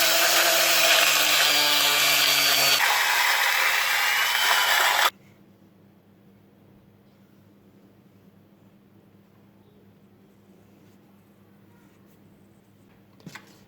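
A loud, steady power sander whirs for about five seconds on a flattened nail for a homemade awl, shifting pitch slightly midway, then cuts off abruptly, leaving a quiet hum and a brief click near the end.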